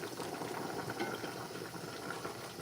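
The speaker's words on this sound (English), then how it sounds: "It's boiling." Water at a rolling boil in a pot, cooking for a Korean soup with shrimp, giving a steady close bubbling and seething wash throughout, ending in a sudden brief clatter.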